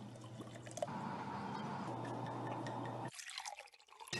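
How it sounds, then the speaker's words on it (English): Bourbon pours into a glass, a close, quiet gurgling trickle that runs for about three seconds and then stops, followed by small clinks. "I like the sound of a bourbon being poured."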